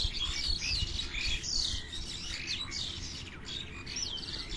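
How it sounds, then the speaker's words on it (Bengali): Several birds chirp and tweet busily and excitedly in rapid, overlapping calls, close and fairly clear over faint low background noise, with no speech. "পাখিগুলো এত রেগে রেগে গেছে কেন?"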